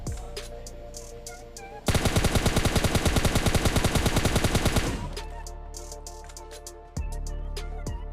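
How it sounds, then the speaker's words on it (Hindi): Rapid automatic gunfire in PUBG Mobile Lite aimed at a buggy, a loud sustained burst of evenly spaced shots lasting about three seconds, with game ambience and scattered effects before and after. "बग्गी पर थोड़ा फायर करने की कोशिश करता हूँ"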